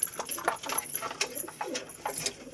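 Male pigeons in their coop make close, soft cooing and shuffling sounds, with brief chirpy calls and flutters scattered through a couple of seconds.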